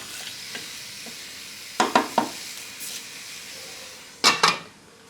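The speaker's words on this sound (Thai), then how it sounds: "ผัด พอใส่เนื้อลงมาแล้ว ผัดคลุกเข้ากันแล้วเนี่ย" Beef stir-fried in a pan for a stew, heard as a few sharp utensil scrapes and clatters, in two clusters, close up over a quiet sizzling background.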